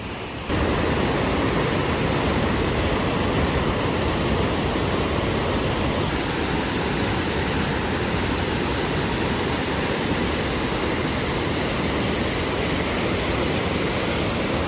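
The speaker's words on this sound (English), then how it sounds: "And now we're stopping to see the falls, and they are wicked." Kney Falls near Sandpoint, Idaho roars as a loud, steady, broadband rush of falling water, heard up close and unbroken throughout.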